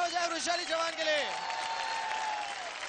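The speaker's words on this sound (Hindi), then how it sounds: "जोरदार तालियां हो जाए वृशाली चौहान के लिए" A dance-show audience applauds for Vrushali Chauhan, a soft wash of clapping sitting beneath a loud, sustained voice that rises and falls over the first half before the crowd noise carries on more quietly.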